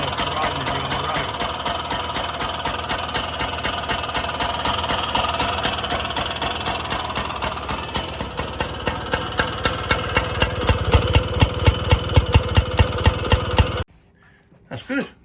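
A 1963 Lambretta Series 3 Li 125 scooter's small engine idles with a steady buzzing putter that settles into slower, distinct pulses, then cuts out abruptly, leaving a few faint knocks.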